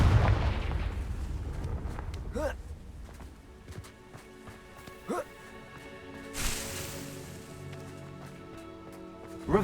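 Confringo blasting spells go off in Hogwarts Legacy as a burst of booming explosions at the start, then scattered magical whooshes and a loud blast further in. Game music plays underneath, and a voice speaks between the effects.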